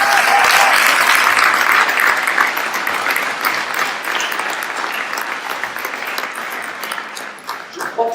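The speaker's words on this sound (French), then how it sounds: "On peut les applaudir, merci." Warm applause from a church congregation, a full even roar of many hands that gradually thins over several seconds, with a faint ping near the start.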